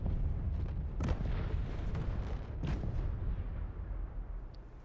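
Deep rumbling blasts with a couple of sharp booming hits, loud and continuous, an explosion in the video game Final Fantasy XVI.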